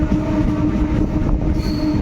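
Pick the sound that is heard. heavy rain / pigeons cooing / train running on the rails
train running on the rails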